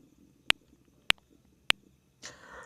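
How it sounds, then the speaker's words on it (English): Metronome app clicking at 100 beats per minute in quarter notes, three sharp evenly spaced ticks alone in a quiet room, followed by a short burst of faint rustling. "you want to put your metronome to 100 beats per minute"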